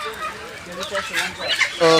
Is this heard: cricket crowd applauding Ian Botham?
no